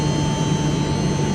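Inside a chiller plant, a Trane chiller's pump motors run loud and close, making a dense continuous roar with steady tonal hums layered on top.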